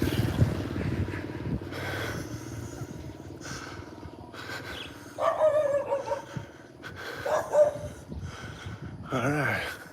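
Barking and yipping from a small fluffy dog on a morning street walk in Thailand, several bursts in quick succession, mixed with background chatter and street noise.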